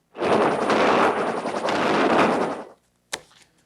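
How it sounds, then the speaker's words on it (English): Battleship USS Missouri firing its 16-inch guns at Iraqi artillery positions in Kuwait: a long, loud, rumbling roar of gunfire that fades, followed by a sharp closer crack. "the battleship USS Missouri has fired its big guns, trying to silence Iraqi artillery in occupied Kuwait"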